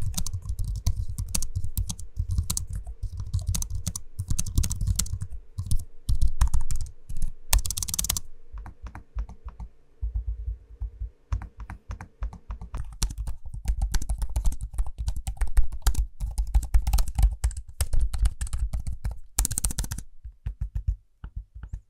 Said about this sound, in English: I'm gonna give you an audio sample right now, both keyboards and trackpads, so you can hear what they sound like for yourself.